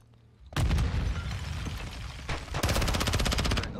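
A video game firefight: a sudden loud grenade blast, then sustained rapid automatic gunfire in a dense close burst, with no talk over it.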